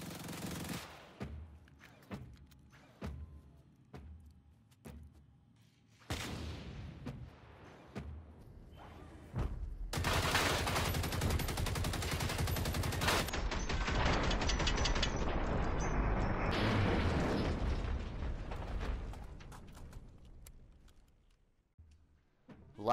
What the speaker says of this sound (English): I will shoot off their weapons as usual, and then I'll start trying to kind of inch out their gas tank